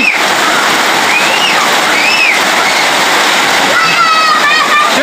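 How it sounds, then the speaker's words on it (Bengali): Heavy rain pours and splashes loudly and close, a dense, constant rush of water, with voices faintly audible above it at times. "এই যে দেখতে পাচ্ছেন প্রচুর বৃষ্টি"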